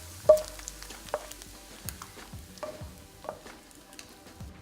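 Bacon frying in a pan for a blueberry and bacon spring salad: a soft, steady sizzle with a few distinct clanks and scrapes of a utensil against the pan, no talking.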